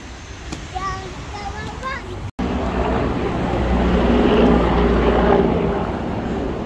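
A helicopter flying over a city centre, its broad rumbling roar building and holding loud, with someone talking over the start.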